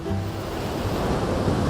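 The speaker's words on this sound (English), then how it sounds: "I hope you guys are enjoying this videoing the sounds of the ocean like I am." Ocean waves wash in a steady, continuous roar of broadband surf, close and even in level throughout, with no voices.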